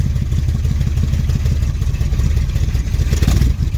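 A Dodge street van engine with a custom side pipe exhaust idles close by with a loud, lumpy, pulsing rumble that holds steady throughout, no voices over it.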